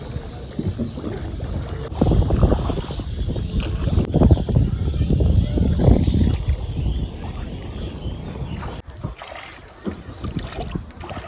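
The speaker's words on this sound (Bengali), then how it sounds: "এখন দাঁড় টানে টানে যাচ্ছে, চিংড়ি মাছ ধরছি" A wooden boat is rowed with oars along a river in the Sundarbans, with soft knocks and water swishes from the strokes close by, mixed with wind noise and brief low voices.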